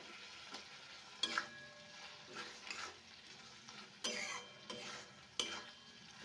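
Potatoes for a fenugreek-flavoured fish curry being stirred and sautéed in a pan, giving soft sizzling with repeated scraping strokes of the spoon at an uneven rhythm, close but quiet.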